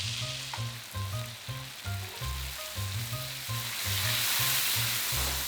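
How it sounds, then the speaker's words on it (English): Coconut milk poured into a hot frying pan for coconut sweet chili chicken, bubbling and sizzling loudly and steadily with rhythmic stirring scrapes throughout, no voices. "now we can add in our coconut milk."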